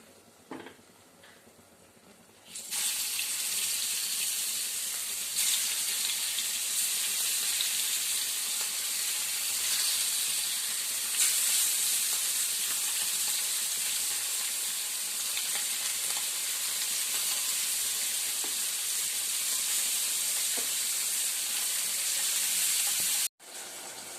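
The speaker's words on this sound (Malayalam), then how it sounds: "വീട്ടിൽ വന്ന് ആ മീനും കൂടെ അങ്ങ് വറുത്തെടുത്തേക്കാം" Fish sizzles steadily in a hot pan in a home kitchen, a continuous loud frying hiss that starts abruptly after a quiet moment and runs on without talk, briefly cut near the end.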